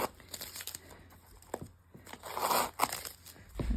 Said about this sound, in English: And take off the tape on the back because we don't need that either